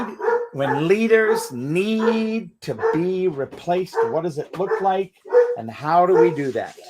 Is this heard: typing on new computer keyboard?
no